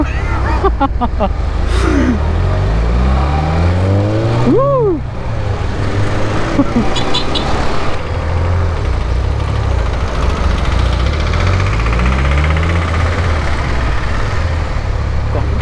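A car engine in Sri Lanka rumbles and revs with a deep bass note while people talk and exclaim over it.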